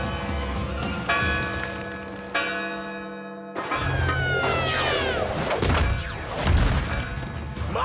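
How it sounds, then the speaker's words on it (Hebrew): Bells ring out in a cartoon, with sustained, resonant chimes struck repeatedly over a busy backdrop of animated thumps, crashes and swooping effects, loud and close. "אני שומע צלצול פעמונים!"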